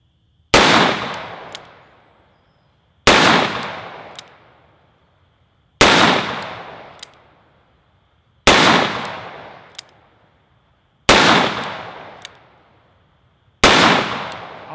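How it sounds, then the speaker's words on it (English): Six heavy shots from a Smith & Wesson 629 .44 Magnum revolver fitted with a fiber optic front sight, evenly spaced about two and a half seconds apart, each a loud close blast with a ringing decay. "we're gonna keep shooting and have fun because I love shooting this gun"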